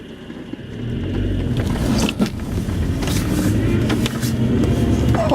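A small four-wheel-drive vehicle grinds through deep snow in a blizzard, its engine droning steadily and loud throughout, with muffled scraping and thumps of snow against the body.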